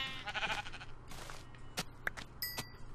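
Sheep bleating in the video game Minecraft, a short, nasal bleat near the start followed by scattered clicks and game sounds over a low background hum, with no speech.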